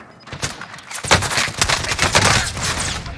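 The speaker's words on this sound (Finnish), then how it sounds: "Ja ne ampu kaksi äijää." Dense, continuous gunfire from a first-person shooter video game: overlapping rapid bursts and automatic fire crackle loudly and close throughout, with a brief lull before the shooting intensifies again.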